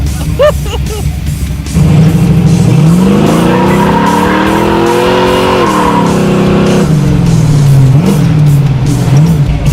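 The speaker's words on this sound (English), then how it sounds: "Reverse burnout. Heck, a reverse burnout." A 1965 Chevy muscle truck doing a reverse burnout: the loud engine revs and climbs in pitch while tires squeal and roar close by, the motor rising and falling repeatedly.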